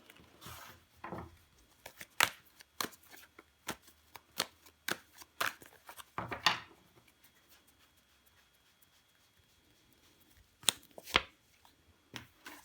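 Tarot cards laid and slapped down onto a table during a reading, a series of sharp close taps and flicks in irregular clusters, with quiet gaps between.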